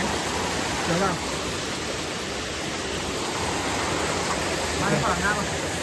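Loud, broad rushing of fast-moving water fills the scene without a break, close and steady, with a voice briefly audible over it.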